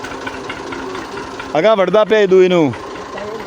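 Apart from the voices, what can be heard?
tractor engine running in a field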